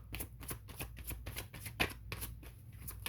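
Tarot cards are shuffled close by in quick, soft, riffling bursts, a series of papery flicks and taps heard quietly, with no talking.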